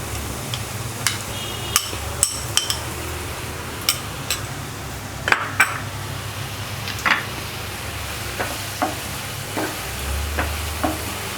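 Onions and tomatoes being stirred in a pan on the stove, a steady low sizzle with repeated sharp scraping and clinking taps of the spoon against the pan, close and clear with no talk.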